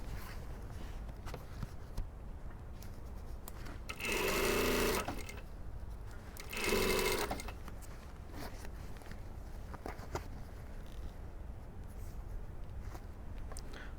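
Sewing machine stitching a boned panel bustier with lining underneath, two bursts of steady whirring stitching, each a second or so long, close over quiet room noise.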